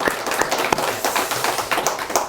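A church congregation applauds, a dense, steady wash of many hands clapping close at hand through the whole moment, with no voices over it.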